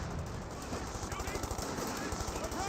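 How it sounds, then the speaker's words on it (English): An MG42 machine gun in Company of Heroes 2 fires a fast, continuous burst of rapid rhythmic shots for the whole stretch, steady and fairly loud over battlefield noise, while someone talks over it. "He does have this MG42 firing away"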